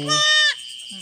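A goat gives one loud, close bleat with a wavering pitch, then a faint low call follows after a brief gap.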